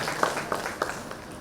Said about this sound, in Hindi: हम सभी ताली बजाकर भाई साहब का स्वागत करेंगे।